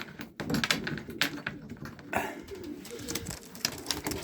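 Young homing pigeons in racing boxes cooing softly nearby, mixed with irregular clicking and tapping, with a faint voice in the background.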